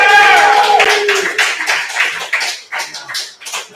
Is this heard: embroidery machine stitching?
no